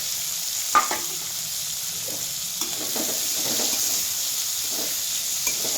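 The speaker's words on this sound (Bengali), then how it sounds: "এগুলোকেও সুন্দরভাবে এবার ভেজে নিচ্ছি।" Chopped onion, green peas and slit green chillies fry in a wok with a steady loud sizzle, broken by a few sharp clinks and scrapes of stirring, with no voices.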